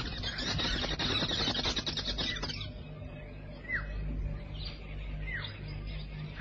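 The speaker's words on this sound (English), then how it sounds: "the most gregarious of all birds," Social weaver birds call around a gigantic communal nest in Africa, first a dense chattering burst, then scattered high squeaky chirps at moderate distance.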